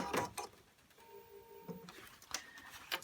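A sewing machine back stitching on denim, a brief burst of mechanical whirring and rapid ticking between quiet handling noises and clicks, faint and close.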